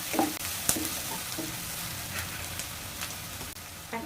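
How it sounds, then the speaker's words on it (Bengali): Whole spices with black cardamom fry in oil for chicken curry, a steady sizzle broken by scraping clicks of stirring, close and alone. "সব কিছু ভালোভাবে ভেজে নিব।"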